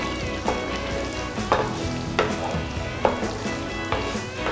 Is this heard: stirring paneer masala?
yes